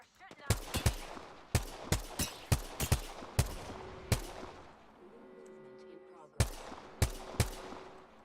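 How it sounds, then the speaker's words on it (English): Computer-controlled bots fire at the player in Apex Legends: about a dozen sharp, close gunshots, some single and some in quick pairs, spread over the clip with brief quieter stretches between them. "Bots are shooting at me."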